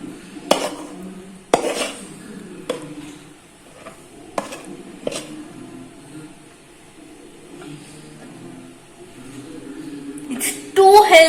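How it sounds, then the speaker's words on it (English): A thick milk cake mixture is scraped from a pan into a bowl greased with ghee, giving several sharp metallic clinks and scrapes of a utensil against the cookware while someone talks. "So now let's transfer it to a well-greased bowl"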